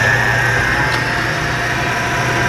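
A Hardinge lathe spins at high speed in third gear at about 3,000 RPM, giving a loud, steady mechanical whir with a constant drone throughout.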